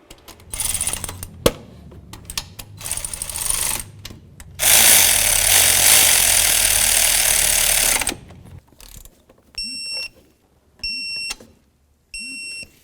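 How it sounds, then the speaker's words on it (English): Socket ratchet clicking as valve cover mounting bolts are snugged down on a 1998-2002 Honda Accord engine, rapid close pawl ratcheting in bursts with a longer steady stretch, then short spaced tool beeps. "let's continue on by snugging them up, and then after that, we'll torque them to 16 foot-pounds"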